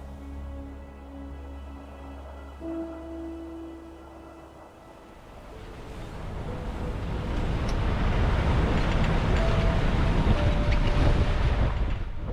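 Sailboat running under sail on the open sea between the Faroe Islands and Foula near Shetland, with steady wind and rushing water that build from moderate to a loud, continuous roar in the second half.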